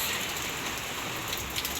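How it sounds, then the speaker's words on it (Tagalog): Steady rain falling in Lebanon, a dense continuous patter heard close and alone at an even level throughout, with no voices. "Umuulan dito sa Lebanon, guys."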